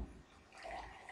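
Hot water pours into a mixing bowl in a soft, steady stream with a faint splashing gurgle, quiet and close in a home kitchen.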